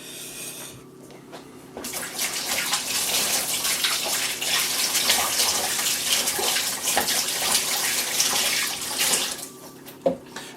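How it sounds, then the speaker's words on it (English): Tap water running steadily over hands being washed at a kitchen sink while baking custard tarts, a continuous close splashing rush that starts and stops abruptly, ending with a small clunk. "I'm just going to quickly wash my hands"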